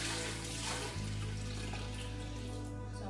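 Prepared kombucha tea pours steadily into a container, a continuous close splashing and gurgling stream with a shift in pitch about a second in as the liquid level changes.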